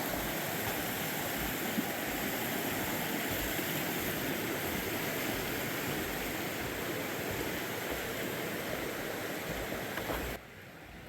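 A creek flowing beside a small footbridge on the Appalachian Trail gives off a steady, loud, broad rushing wash with no break, until the level suddenly drops near the end.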